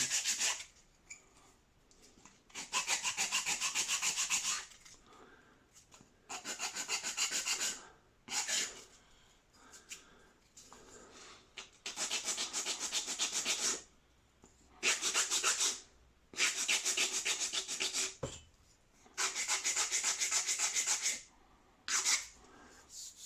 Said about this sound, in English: I've sanded to the line